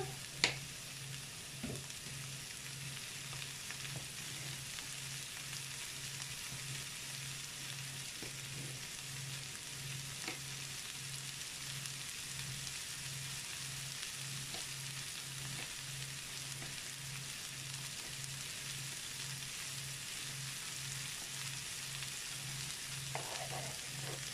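Tomatoes frying with a rice dish in a pan, giving a steady soft sizzle throughout with occasional light scrapes and taps from stirring, fairly quiet and continuous with no talking.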